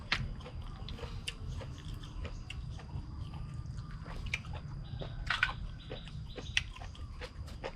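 Crunchy chewing of large cooked apple snails dipped in seafood sauce, close and fairly quiet, with repeated crisp bites and mastication clicks spread across the stretch and no talking.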